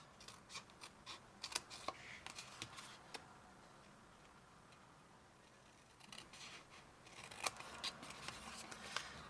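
Scissors cutting patterned paper for a Stampin' Up! 3D box craft, giving quiet, crisp snips in short irregular bursts with small gaps, close and alone with no talk.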